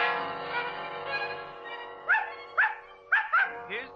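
Several sharp, distinct dog barks in a 1948 old-time radio drama, arriving in a quick irregular series after a stretch of voices, clear and fairly close.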